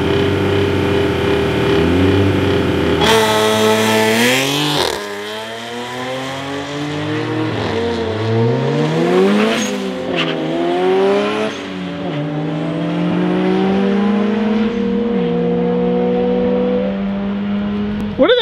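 Honda Civic built by a tuning shop launching hard with launch control on a race track, a loud engine rising through gears in long revving sweeps, shifting and pulling away over about fifteen seconds.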